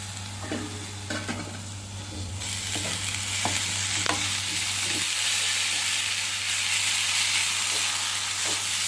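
Soaked, drained flattened rice being stirred into a cooked dal mix in a pan, scraping stirs over a sizzle that swells into a louder, steady hiss partway through, a low hum fading out midway, no talking.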